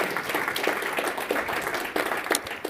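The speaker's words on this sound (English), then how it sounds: "Give us a round of applause," Steady applause from a crowd at the NeoCon 2025 design conference, dense clapping spread evenly throughout with a few sharper claps standing out.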